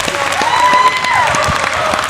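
A wrestling crowd applauds at an IPW event, a dense steady wash of clapping filling the hall with a faint murmur beneath it.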